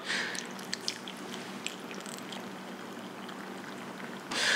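Tap water pours steadily over chopped vegetables in a jar for a fermented Louisiana-style hot sauce, a close, continuous rushing splash with no talking.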